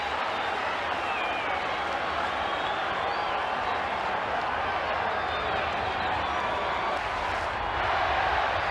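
A big crowd roars steadily through a Friday night rugby league match between St George and Canberra, a continuous, dense wash of cheering and applause filling the stadium.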